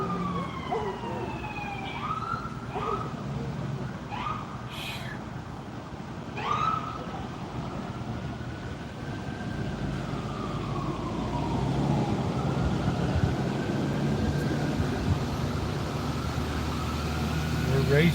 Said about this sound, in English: There's our obligatory siren.